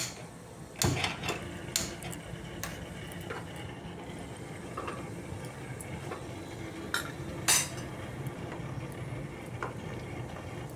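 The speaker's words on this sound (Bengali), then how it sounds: "এবার গ্যাস জ্বালিয়ে আবার চানা পালংয়ে কড়াইটা বসিয়ে দিচ্ছি।" A kadai pan of chana palong is set on a gas stove. Several sharp metallic clanks and knocks of cookware ring out at irregular intervals over a low, quiet kitchen background.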